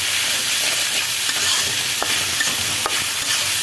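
Bitter gourd fry is stirred in a pan, a loud, continuous sizzle close by with a few soft scraping clicks of the utensil against the pan.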